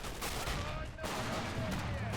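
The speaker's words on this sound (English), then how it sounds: "That was a nice explosion sound." An explosion in the Men of War strategy game during a massive Soviet wave assault on a Japanese pagoda temple, a dense, continuous roar of battle blasts and gunfire that fills the whole stretch loudly.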